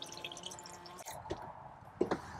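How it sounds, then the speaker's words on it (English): Water runs and drips from the sink tap of a small camper van, quiet and close, with light splashing and a couple of sharper drops near the end. "if you give it a whole lot of pressure, you get a whole lot of water"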